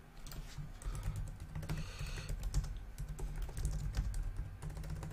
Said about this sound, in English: If I could type, I'd be in business.